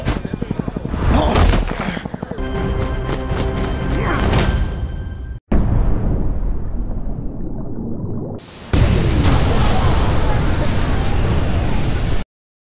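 A bomb detonates in a film's climactic riverside scene, bringing loud, dense blasts and roaring rumble that cut off abruptly, then a decaying roar that gives way to another sustained wall of explosive noise.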